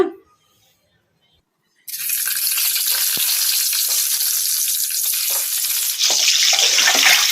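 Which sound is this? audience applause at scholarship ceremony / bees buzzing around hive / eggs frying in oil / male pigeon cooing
eggs frying in oil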